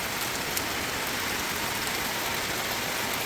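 Light rain falls steadily outside a balcony, a soft, even hiss of drops on surfaces with no voices and no change in intensity.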